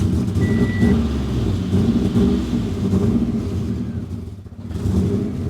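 A Subaru STI drag car engine runs with a steady, low rumbling idle, close and fairly loud, with a brief high beep near the start and a short dip in level toward the end.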